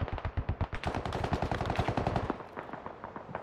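Rapid automatic gunfire from a firefight with Russian troops in the tactical shooter Squad, a dense, loud burst of shots fired in quick succession that thins out into a few scattered cracks near the end.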